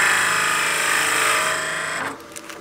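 A wood lathe spins steadily while a birdhouse ornament is turned, giving a loud continuous whir that winds down and stops near the end, leaving a few faint knocks.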